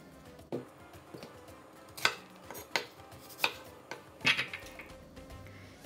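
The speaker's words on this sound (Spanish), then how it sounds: "Ahora vamos a cortar nuestra cebolla que vamos a usar" A knife cuts an onion on a cutting board in a kitchen, giving about half a dozen soft, separate chops and board knocks spaced a second or so apart, close but quiet.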